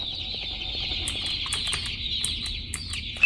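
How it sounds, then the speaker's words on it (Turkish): Birds in the video game Garten of Banban II chirp and twitter in a steady, high-pitched stream with quick, repeated clicks and calls over a quiet background, with no talk. "Aa kuşlar."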